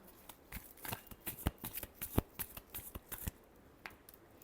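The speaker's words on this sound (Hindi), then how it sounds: "last shuffle" Tarot cards being shuffled by hand, a run of crisp riffling slaps and flutters repeating unevenly, close and fairly quiet, with no voices.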